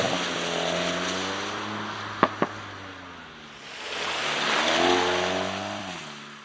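Volkswagen Golf GTI Clubsport engine pulling at motorway speed, a steady harmonic drone that drops in pitch with a brief dip and then climbs again as revs build after a downshift, with two short sharp clicks partway through.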